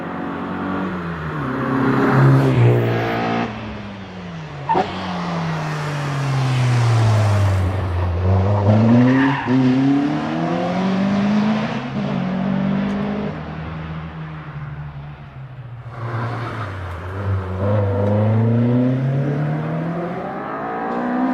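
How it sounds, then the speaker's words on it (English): An MGB Roadster races up the Prescott hill climb, its engine revving and climbing through repeated gear changes, rising and falling in pitch as it accelerates, loud and close before pulling away. "as Steve Norris rounds the Tories in the MGB Roadster"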